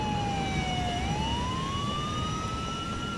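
A GTA IV ambulance siren wails in a steady, rising tone and stays loud and continuous throughout, with dense game rumble underneath and no speech.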